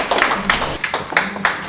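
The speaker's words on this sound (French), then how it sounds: "Vous pouvez recommencer les applaudissements parce que la caméra n'avait pas commencé là" An audience at a municipal archives event in Lyon claps in a short burst. About half a dozen sharp, evenly spaced claps ring out close and fairly loud.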